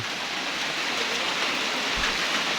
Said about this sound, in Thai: ตอนนี้ฝนที่เทิงภูก็แบบ ตกแบบกระหน่ำซัมเมอร์เซลมากเลยนะคะ